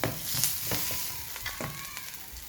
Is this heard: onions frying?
yes